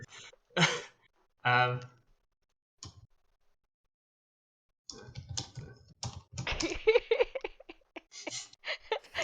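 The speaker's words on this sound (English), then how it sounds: "Your keyboard is so loud as well." Rapid clicking of keyboard keys in quick bursts, close by, mixed with a couple of short voice sounds and a silent gap.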